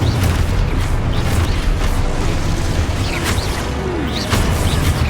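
Confringo blast spell explosions in the game Hogwarts Legacy, a continuous dense rumble of booms and crashing bursts with faint whooshes, loud and close.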